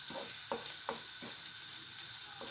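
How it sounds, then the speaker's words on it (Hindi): Eggs frying in a pan while cooking junglee pulao, a steady close hiss of sizzling oil with soft periodic stirring scrapes, no talk. "दोनों साइडों से हम अच्छे से अंडे को फ्राई कर लेते हैं।"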